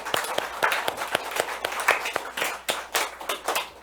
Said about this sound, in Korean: 감사의 박수 올려드립니다